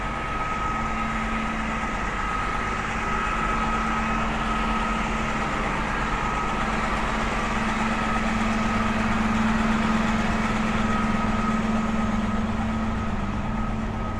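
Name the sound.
noisy city bus engine idling on a Brooklyn street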